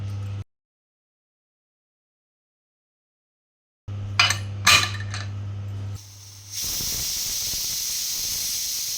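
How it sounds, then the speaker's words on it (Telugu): A pressure cooker holding mutton on the stove releases a loud, steady rush of hissing steam with a high whistle. It follows a quiet gap and a few short knocks and rattles, with no talking. "మటన్ బట్టి లేతదైతే ఒక మూడు జర ముదురుదైతే నాలుగు విజిల్ రావాలి"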